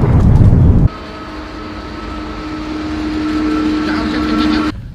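A train runs along rails in a steady, loud rumble with a sustained metallic whine, lasting about four seconds before cutting off abruptly.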